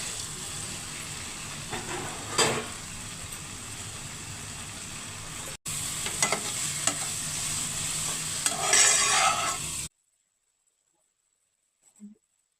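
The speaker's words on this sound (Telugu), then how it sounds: "టమాటో ప్యూరీ ఉడికిపోయింది ఇప్పుడు బెండకాయ ముక్కలు వేస్తుంది" Okra pieces fry in a cooked tomato puree masala, giving a steady moderate sizzle with occasional scraping stir strokes and brief clatters, broken by a short gap, then falling silent for the last few seconds apart from a faint knock.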